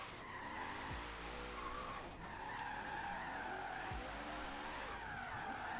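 Cars collide in the racing video game Forza Horizon 3, with loud continuous engine roar, tire skidding and squeal, and low impact thumps near the start and around four seconds, all without talking.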